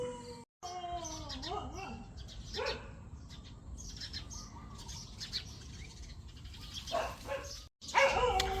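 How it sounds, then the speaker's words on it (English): Dogs bark and birds chirp and tweet in a morning outdoor setting in Udon Thani, Thailand, the calls scattered and moderately distant over a low background hum, with brief dropouts. "Dogs are barking, birds are tweeting."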